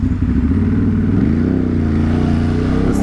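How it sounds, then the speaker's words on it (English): Steady, loud road traffic on a busy street at 4 p.m., with engines rumbling and revving continuously as motorcycles and cars pass close by, no voices present. "I don't know why there's so much traffic here today."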